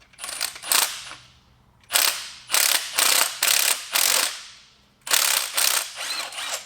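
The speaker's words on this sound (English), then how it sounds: "we're going to run the bolts in with an impact" Impact wrench running bolts into a Toyota 22RE engine during reassembly, sharp rattling bursts in quick succession, a pair at first and then a run of four and a final longer burst, loud and close.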